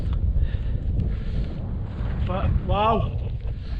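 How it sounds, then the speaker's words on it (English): Strong wind buffets the microphone on a Scottish mountain hillwalk under a heavy pack, a constant low roar through the whole stretch, while someone speaks briefly near the end. "just wish that wind would drop a wee bit"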